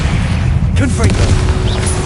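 A Confringo blasting spell bursts in Hogwarts Legacy, a loud booming blast amid game effects, with a voice shouting the spell name over it.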